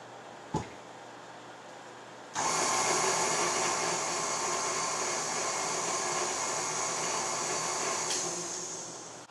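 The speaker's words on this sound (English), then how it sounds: "I'm going to just mix that up a little bit with my mixer." An electric hand mixer whirs steadily through a bowl of dry ingredients for homemade hamburger buns, a sharp click, then a sustained loud buzzing drone that runs several seconds before starting to fade.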